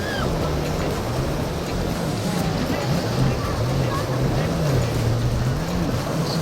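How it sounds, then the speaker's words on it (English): A motorboat engine drones under constant rushing water and wind as the hull churns through rough ocean waves, with a voice faintly underneath. "when he lost control of his boat in the treacherous condition of the ocean"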